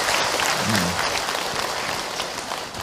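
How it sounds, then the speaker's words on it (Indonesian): An audience at an Islamic talk applauds a woman who has just asked a question. A broad wash of clapping, fairly loud and steady, slowly fades over three seconds, with a brief low tonal sound early on. "Tepuk tangan untuk Ibu Anis yang sudah bertanya"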